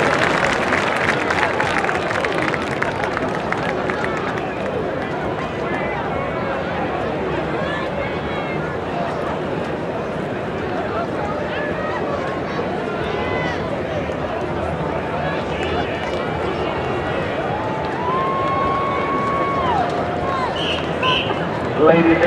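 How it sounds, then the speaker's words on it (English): An audience at the Mr. & Ms. NCCU Alumni Contest gives sustained applause, a dense, loud, even wash of clapping that carries on for over twenty seconds, with voices mixed in. "Let's give them all a big round of applause"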